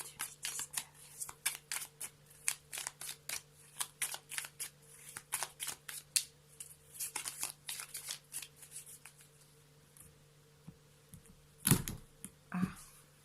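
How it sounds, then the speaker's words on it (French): Tarot cards riffle and shuffle in a dense run of crisp, rapid flicks and slaps, close and fairly loud, then pause before a couple of sharper clatters as the cards are dropped. "Je fais tomber mes cartes."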